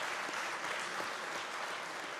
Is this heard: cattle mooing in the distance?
no